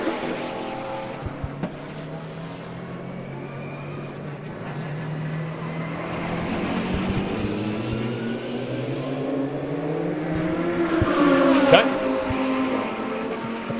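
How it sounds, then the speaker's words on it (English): Race cars from a South African endurance series GT3 field, including a Lamborghini Huracan GT3 Evo, drone and rise in pitch as they pass, with the engine noise building toward the end under a steady crowd of motor sound. "ill have in his sights Zolile Letlaka in the Stradale Motorsport and Into Africa Mining Lamborghini Huracan GT3 Evo."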